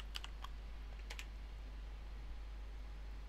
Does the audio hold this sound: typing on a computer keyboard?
yes